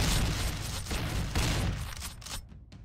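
Dense, continuous gunfire from the animal combat video game Beast Battle Simulator, a loud rattling barrage of overlapping shots that thins out near the end.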